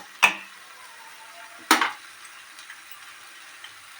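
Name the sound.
fried potato pieces added to sizzling paste in pan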